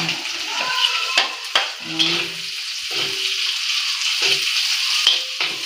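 Onions frying in a pan while cooking pinakbet, a steady bright sizzle throughout with intermittent stirring scrapes, close and loud, and a voice speaking briefly over it.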